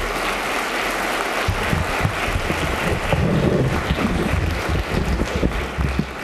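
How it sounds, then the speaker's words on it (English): Applause from legislators and the gallery in a House chamber for a visiting student choir at an opening ceremony, a dense and sustained patter of clapping that holds for several seconds and stays mid-distance. "that deserved a second round of applause"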